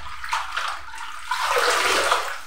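Terere and sagaa leafy vegetables being washed in a basin of water to rinse out sand and small stones: steady, close sloshing and splashing that swells louder halfway through, with no voices.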